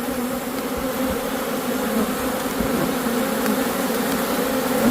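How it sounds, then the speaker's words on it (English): A swarm of killer bees drones in a dense, constant buzz close by, the hum thick and unbroken with individual insects flitting past. "Killer bees."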